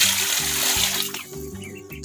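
Water pours and splashes as it is drained from a Daphnia breeding container, a continuous rushing gush that thins toward the end, close, with a repeating low tonal pattern in the background.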